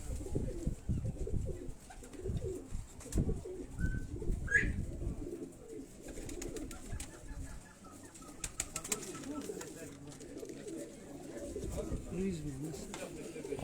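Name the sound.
Teddy pigeons cooing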